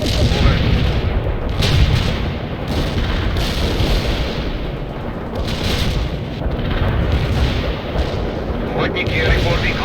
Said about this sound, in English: artillery commencing the barrage